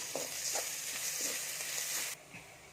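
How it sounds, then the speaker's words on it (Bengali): Steady sizzling of ginger, garlic and green chillies frying in hot oil, with a few stirring scrapes, cutting off abruptly near the end. "এবার এইগুলোকে আমি একটু ভেজে নিচ্ছি"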